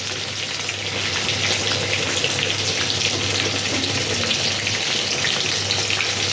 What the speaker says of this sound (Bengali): পটলটা কি ভাজা হয়ে গেছে না আর একটু বাকি আছে ভাজতে